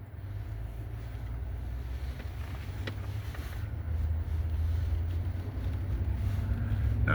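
A 1949 Willys pickup truck on a short test drive down a road, a low steady engine and road rumble heard from inside that grows a little louder toward the end, with a faint wind hiss.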